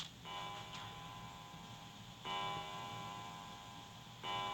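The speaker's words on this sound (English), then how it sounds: "They heard a bell begin to ring." A clock bell chimes in the video game 999, three resonant strikes at about two-second intervals, each ringing on with a sustained tone over a steady low background hum.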